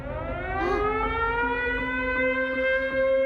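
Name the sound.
siren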